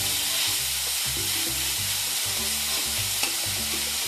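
Onion sautéing in a pan for dill masala, a steady close sizzle and frying hiss with repeated stirring scrapes in a regular rhythm, no voices.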